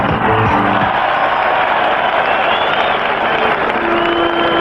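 A college football crowd of over a hundred thousand at Michigan Stadium roars and cheers during a Notre Dame versus Michigan game, a dense, continuous wall of sound with scattered yells.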